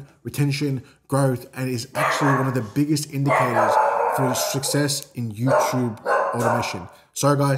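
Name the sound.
dog barking in the background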